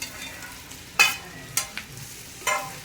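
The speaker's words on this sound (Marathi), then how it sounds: "आता आपण त्याच्यात भेंडी घालूया आपली." Okra (bhindi) goes into a pan of frying spices, a soft low sizzle broken by a few sharp clattering stirs and scrapes, close and with no talking.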